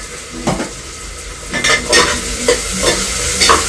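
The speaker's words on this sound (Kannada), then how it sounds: "ಚೆನ್ನಾಗಿ ಈರುಳ್ಳಿ ಫ್ರೈ ಆದಮೇಲೆ" Onion frying in a pan, loud close sizzling with repeated spatula stirring strokes and metallic scrapes coming in bursts every half second or so.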